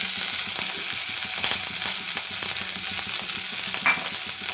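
Grated ginger sizzling in hot ghee with cumin seeds in a pan for palak paneer, a steady loud frying hiss with faint stirring scrapes throughout.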